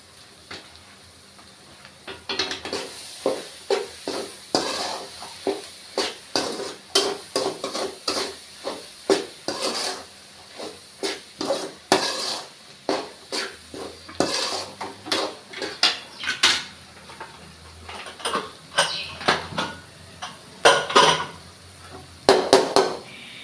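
Metal spoon scraping and clanking against a cooking pan as egg rice is stirred, a steady run of sharp, close scrapes and knocks repeating over twenty seconds with a faint sizzle beneath and no talking.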